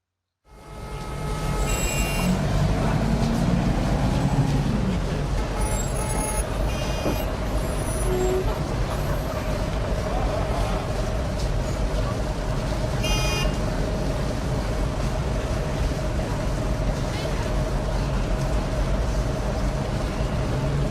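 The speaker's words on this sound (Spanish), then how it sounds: "Vamos a escuchar el sonido de un tráfico intenso." Heavy road traffic rumbles continuously with trucks and cars passing, punctuated by reversing beeps, hissing air brakes and occasional horn toots near and far, all loud and unbroken.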